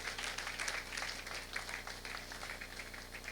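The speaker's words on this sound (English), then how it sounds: "Please give our teachers a round of applause." A convocation ceremony audience at a college of education applauds its teachers, a steady, soft wash of many hands clapping that carries evenly for several seconds at a distance.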